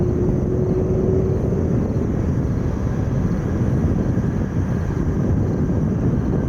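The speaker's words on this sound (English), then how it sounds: "Classic Aer Lingus livery A330" Aer Lingus Airbus A330 airliner at Chicago O'Hare, a loud steady engine roar that fills the whole stretch with wind buffeting, heard alone with no voices.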